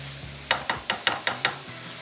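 Chopped onion being stirred into cooked keema for paratha filling: a soft background sizzle with about six short scraping stirs in steady rhythm, close and moderately loud, no voices.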